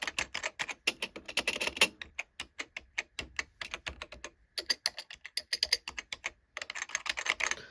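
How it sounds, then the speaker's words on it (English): Rapid, crisp mechanical keystrokes clatter in irregular bursts, a close and loud typewriter-like rattle with brief pauses between runs of typing. "It's like an electric typewriter."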